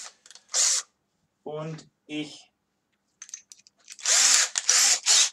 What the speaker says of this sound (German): Das Loch im Kipper bohren wir auf 3 mm auf